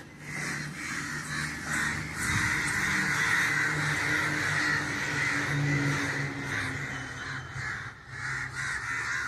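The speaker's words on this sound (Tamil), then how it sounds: "காகம் இது காக்கான்னு நினச்சிட்டு வந்து எல்லாம் கத்திகிட்டே இருக்குது" A crowd of crows caws loudly and constantly outdoors, gathering in alarm around an unusual bird. Harsh overlapping calls rise over steady background noise with no gaps, and nobody speaks.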